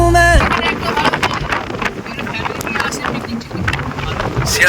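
Strong wind buffets and roars continuously, with rumbling gusts over the open water of Vatra Bill in Malda; a voice is heard briefly at the start.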